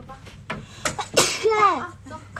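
A young woman's wet, explosive sneeze comes close to the mic amid short breaths and vocal sounds, with a brief rising squeak after the burst.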